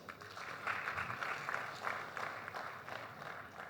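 Audience applause at the CoopAWARDS 2023 ceremony in Lagos State, a faint, steady wash of many hands clapping from a distance, continuous throughout with no voices on top.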